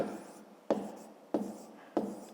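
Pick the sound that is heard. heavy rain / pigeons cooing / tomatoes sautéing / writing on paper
writing on paper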